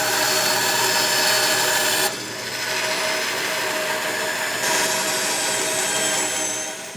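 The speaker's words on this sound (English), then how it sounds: "It just gets me close on the bandsaw, and then I take the rest off on the drum sander." A bandsaw or drum sander shapes small wooden spacers for a traditional longbow, a loud, steady power-tool whine and abrasive grind running throughout with a slight dip in intensity partway through.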